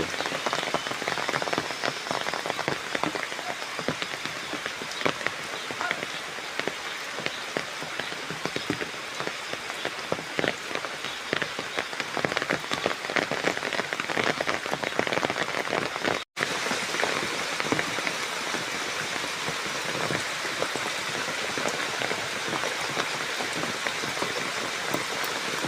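Heavy rain pours steadily on surfaces outdoors in a rural yard, a dense, even patter of drops that continues unbroken for the whole stretch.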